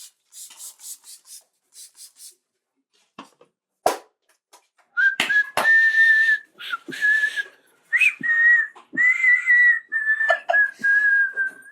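A man in a comedy sketch whistles a series of short, bright phrases, repeated in bursts, after a few scattered rubbing and tapping noises at the start.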